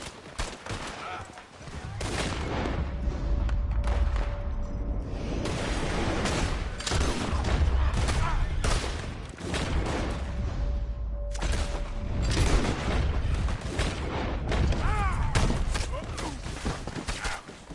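Rapid volleys of gunfire in Red Dead Redemption 2, loud and dense, crackling almost continuously with booming reports, under game dialogue and chatter.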